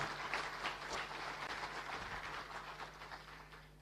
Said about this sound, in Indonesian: Kita berikan aplaus untuk beliau